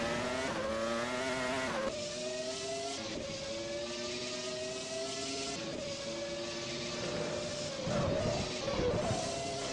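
Race car engines in a video game roar and rev together at the start of a race at Suzuka, a dense continuous drone of rising and shifting engine notes with a few gear-change dips.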